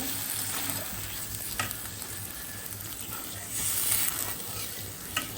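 Sour yogurt and sugar go into a simmering egg curry, a continuous loud sizzle and bubbling with spoon stirring and occasional scrapes against the pan.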